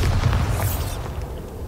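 A Bombarda spell goes off in Hogwarts Legacy as a single heavy booming explosion, loud and close, its deep rumble decaying over about a second.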